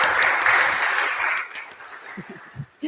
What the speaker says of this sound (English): We were clapping for you.